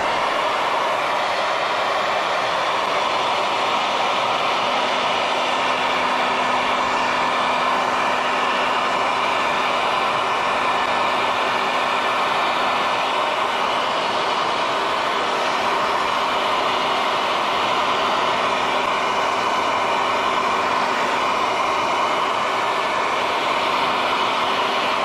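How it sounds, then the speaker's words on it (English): A steady, loud blowing roar with a faint whine from a hair dryer running up close over adhesive vinyl on a textured surface, continuous and unchanging for a long stretch. "Okay, now we're gonna take the hair dryer."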